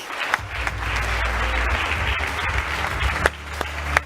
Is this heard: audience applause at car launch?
yes